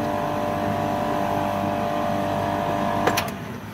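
A Cloudray CO2 laser chiller's steady mechanical hum with a constant 120mm fan whir drones close by, broken near the end by a brief click.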